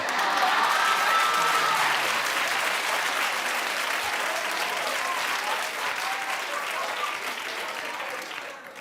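Sustained applause from a studio audience, loud and dense at first and gradually easing off, with a little chatter mixed in.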